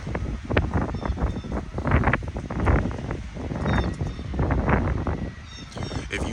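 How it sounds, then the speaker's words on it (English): Wind blows outdoors in gusty rushes and buffeting against the microphone, rising and falling over several seconds, with faint rustling and distant bird chirps. "Damn, that's the wind picking up."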